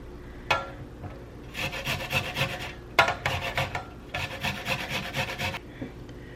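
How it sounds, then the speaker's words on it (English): Fresh ginger is rasped against a grater in bursts of quick rhythmic scraping strokes, close and fairly quiet, with short pauses between rounds. "you're going to want to grate a little piece of ginger"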